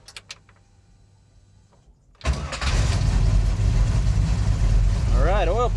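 After a few quiet clicks, a car engine is cranked, catches and settles into a loud, close, rumbling idle, with a voice briefly heard near the end.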